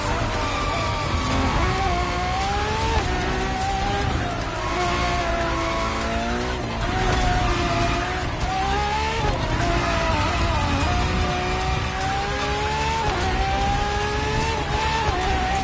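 A Ferrari FXX K supercar in The Crew Motorfest races hard: a loud, high engine wail rises and falls through repeated shifts while tires squeal and skid through corners, continuous and close throughout.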